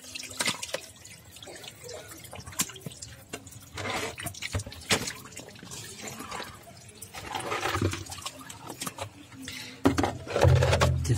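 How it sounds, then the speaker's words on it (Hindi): Water from a turtle tub being poured out, a steady splashing and trickling stream with drips, fairly close and continuous, ending in a louder gush. "अब मैं टब के पानी सारा गिरा दूंगा।"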